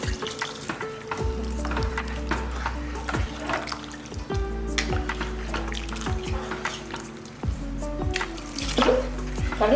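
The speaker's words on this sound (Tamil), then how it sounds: "தேவையான அளவுக்கு தண்ணி ஊற்றிடலாம்" Water pours into a pot of vegetable sambar in a steady, close stream that gurgles and splashes for several seconds, with some brief voice sounds underneath.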